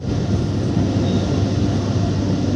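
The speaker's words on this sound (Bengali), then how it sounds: "আমি এখন বজবজ ট্রেনে উঠে গিয়েছি" A moving Budge Budge local train in Kolkata heard from inside the carriage: a steady, loud, broadband rumble of wheels and car body runs unbroken throughout, with no talking.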